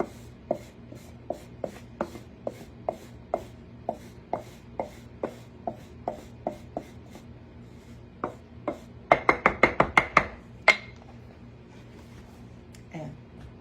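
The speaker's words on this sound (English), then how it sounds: "this is just the easiest thing to take your biscuit cutter," Metal biscuit cutter scraping biscuit dough scraps off a kitchen counter in a series of sharp, evenly spaced scrapes and taps, followed by a quick burst of faster strokes, close and clear with no talk.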